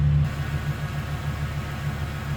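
A 1996 Chevrolet Impala SS sedan's engine runs at a steady idle, its throaty exhaust giving a deep, even rumble that holds close and constant throughout.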